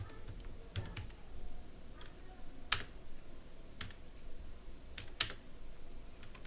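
Someone types on a computer keyboard in short, sparse bursts, with a few sharper key clicks standing out against a quiet room hiss.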